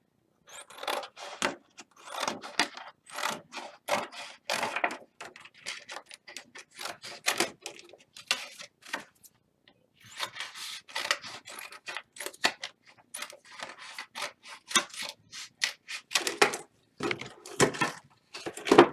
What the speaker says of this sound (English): So now I'm going to cut out my rainbow.